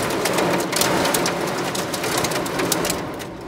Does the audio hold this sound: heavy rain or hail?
yes